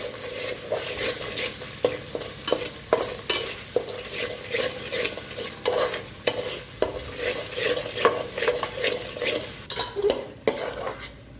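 Spice masala of garlic paste, black and red chilli powder fried and stirred in a pan for a spicy mutton curry, rhythmic scraping and clanking of a spoon against the pot over a bright sizzle, close and lively.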